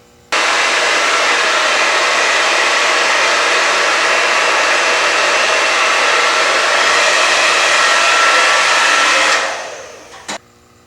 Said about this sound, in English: Whenever using a hairdryer, be certain that it stays on cool shot.